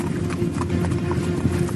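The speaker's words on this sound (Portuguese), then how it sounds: "Então Naamã foi com os seus cavalos e carros" Horses' hooves clattering with chariots as they arrive, in a Bible story of Naaman coming with his horses and chariots. Steady, dense clip-clop runs throughout at a moderate, constant loudness, with no speech over it.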